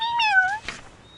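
A cat meows once as a sound effect in a Berenstain Bears children's app, clear and close, with a short wavering rising-then-falling cry.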